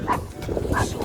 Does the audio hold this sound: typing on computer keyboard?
no